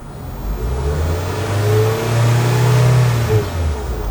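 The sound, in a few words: car engine running and revving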